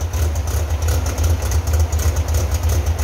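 Type 3 engine just after its first start following a service, without restoration, idling roughly with a low, uneven pulsing throb, close and continuous, smoking as it runs.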